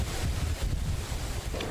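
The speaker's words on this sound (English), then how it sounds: "the wind was gusting through San Francisco" Strong wind gusts through San Francisco, buffeting the microphone with loud, uneven low roaring that surges and dips throughout.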